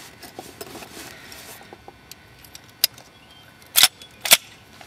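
A nail gun drives 1.5 inch concrete nails to fasten spider ties, with two sharp, loud cracks near the end after a few seconds of quiet, faint ticking.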